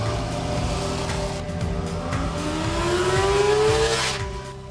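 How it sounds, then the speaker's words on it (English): Honda CB650R motorcycle with a 648cc inline four-cylinder engine making 86 horsepower, revving with a steady loud drone whose pitch climbs and swells toward the end, then eases off. "It is powered by a 648cc inline 4-cylinder engine that makes 86 horsepower"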